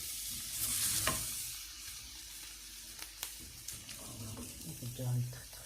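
Food sizzles softly in hot oil while being prepared with spinach and cheese, with a few stirring knocks and clatter, the frying hiss rising in short bursts toward the end.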